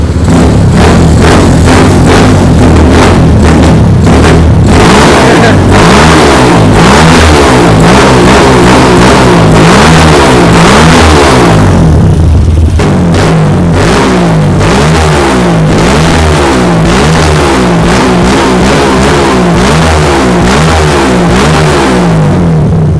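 A Kawasaki KLX/DT 150 motorcycle engine with a PE 28 carburetor revs repeatedly, rising and falling in steady bursts, loud and close, with a brief drop before the revving resumes.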